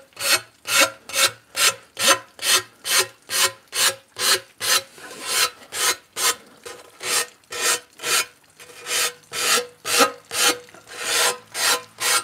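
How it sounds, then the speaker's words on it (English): Rhythmic rasping strokes smoothing the edge of a cut tile, downward passes only: about two dozen loud, close, evenly paced scrapes, each a short gritty rub, with no talk. "you're just going to basically take that edge off, and it makes it feel just like a factory edge"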